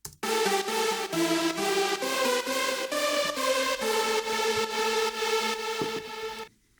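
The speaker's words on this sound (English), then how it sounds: "And they together sound like this" Two synth lead sounds stacked together play a pulsing melody, thick and bright with a fat layered tone, loud and unaccompanied before cutting off.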